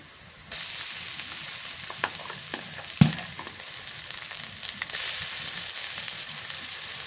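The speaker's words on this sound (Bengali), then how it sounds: "পেঁয়াজ ভাজা হয়ে গেছে, কাঁচামরিচ বাটা দিয়ে দিই" Fried onion and green chili paste sizzle in a pan with a steady, bright hiss that swells as the paste goes in, broken by a few spoon clinks and scrapes close by.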